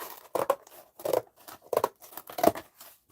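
Paper cut with scissors at a craft table, five distinct snipping strokes in a steady rhythm, close and clear with no talking.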